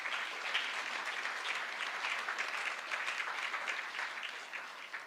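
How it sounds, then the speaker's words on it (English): Members at an annual general meeting clap for the nominees, producing dense, sustained applause with an even level and no break. "now just clap for the nominees"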